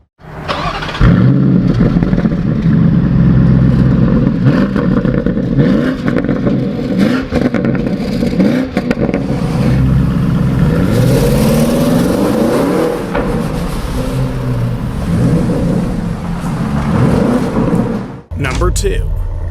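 A 2026 Lamborghini Urus SE SUV with a twin-turbo V8 engine driving, a loud sustained engine roar with rising and falling revs across the run, cutting off near the end.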